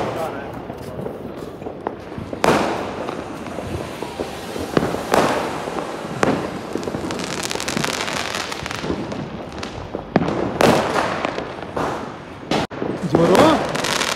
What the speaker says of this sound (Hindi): हाँ क्या देख रहे हो, पटाखे देख रहे हो?